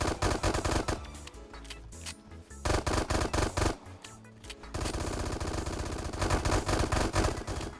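Rifle fire from the Roblox game Bad Business: rapid automatic bursts in several runs separated by short pauses, ending with one long continuous stream of shots, close and punchy.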